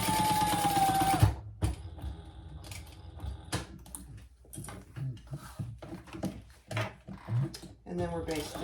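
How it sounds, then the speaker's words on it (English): A sewing machine runs in short bursts while basting the three raw edges of a sling crossbody bag together, with quiet pauses between the runs and a few handling knocks. "we're basting the 3 raw edges together"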